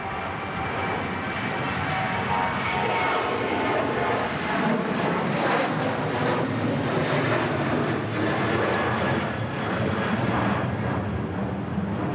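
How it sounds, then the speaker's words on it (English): A Ryanair Boeing 737 takes off from Manchester bound for Dublin, its engines giving a strong, sustained roar that swells slightly in the middle and holds steady to the end. "Ryanair 737 off to Dublin."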